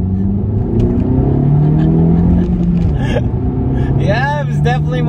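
A 10th-generation Honda Civic engine revs up through a pull in second gear, a loud sustained drone rising in pitch with a gear-like sweep near the end, heard close and continuous, with speech around it.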